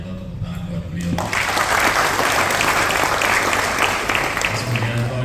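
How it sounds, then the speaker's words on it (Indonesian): Applause from an audience at an alumni association gathering in Central Java, starting after a brief voice and swelling into loud, sustained clapping that continues steadily to the end. "Mas Budianto, tepuk tangan buat beliau."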